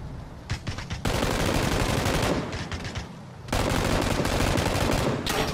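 Sustained automatic gunfire in PUBG, dense bursts of rapid shots that are loud and close, broken by brief lulls before another heavy volley.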